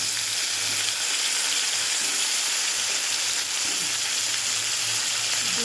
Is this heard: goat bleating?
no